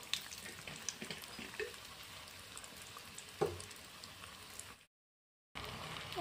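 Soft, continuous sizzling of egg chops frying in oil, with a few light clinks and scrapes from turning them.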